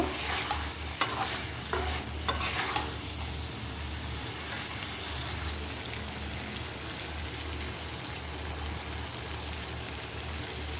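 Bean seeds and fried quail eggs sauté in a pan, a steady sizzle with several sharp scraping stirs early on that then settle into continuous frying.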